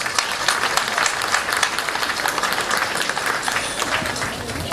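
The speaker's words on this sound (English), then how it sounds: "I'd like you to give a round of applause for our project team." An audience at the opening of a modern medical and diagnostic centre in Georgetown, Saint Vincent, applauds the project team with a full, even wash of clapping that holds steady from start to finish.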